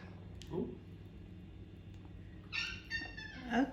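A cat meows quietly indoors at feeding time, with two short, faint calls near the end over a low background hum.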